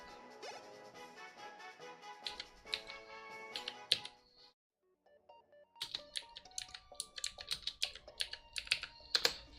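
Rapid clicky bursts of typing on a computer keyboard, uneven in rhythm and close to the mic, with a short pause midway and soft game music tones underneath.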